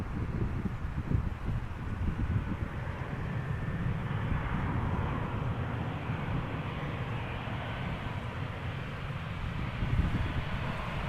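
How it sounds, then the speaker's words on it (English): A KLM Boeing 737-800 arriving from Paris at Amsterdam Schiphol makes a steady, distant broadband jet roar mixed with wind buffeting the microphone, continuous for the whole stretch without voices. "KLM Flight 1230, 737-800 arriving from Paris"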